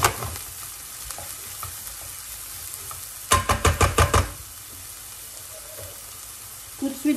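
Garlic and ginger sizzle softly in a frying pan, then a quick series of about six sharp utensil knocks and scrapes comes as the mixture is stirred, before the quiet frying continues.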